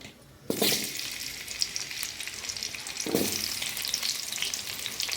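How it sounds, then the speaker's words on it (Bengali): Potatoes frying in oil in a wok: a dense, steady sizzle bursts in after a brief quiet start, then surges again near the middle as more is stirred in, loud and close throughout. "ওই কড়াতেই আমি আরও একটু তেল দিয়ে দিচ্ছি, দিয়ে আমি আলুগুলো সব ভেজে নেব"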